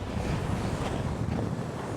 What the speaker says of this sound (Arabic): هواء قوي وبارد، يعني واحد حيطير